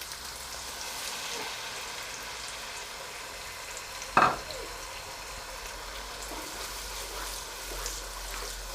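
Tomato paste frying in a pan on a medium-high flame makes a soft, steady sizzle, with one sharp metallic clink partway through.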